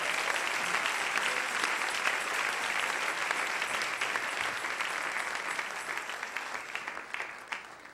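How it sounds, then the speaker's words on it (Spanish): A church congregation applauds, a broad crowd of clapping that is loud at first and then gradually thins and fades toward the end, with no speech. "Denle un aplauso al Señor en esta hermosa mañana."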